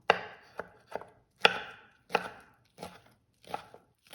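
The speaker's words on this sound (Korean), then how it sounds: "양배추가 절여지는 동안 느타리 버섯을 다져주도록 할게요." A knife chopping oyster mushrooms on a cutting board, about nine distinct crisp chops at an uneven, unhurried pace, close and clear with no talking.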